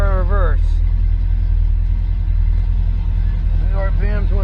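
A C3 Corvette with a 200-4R transmission idling with a steady low rumble, then shifted into reverse, with speech over the engine at the start and end.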